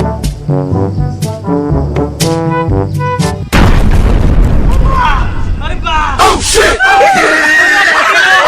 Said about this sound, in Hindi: अब दोनों बम में आग लगाया जाए और आप लोग देखते रहिए।